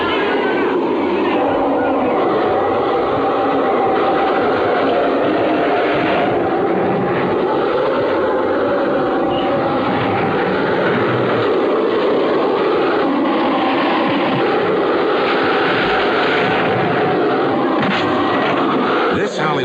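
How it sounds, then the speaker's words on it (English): A Hollywood special-effects sandstorm, a fierce desert Simoon staged for a film set at Suez, roars as a loud, continuous wall of rushing wind and blowing sand that barely varies for its whole length. "in Suez they unleash a fierce sandstorm called a Simoon"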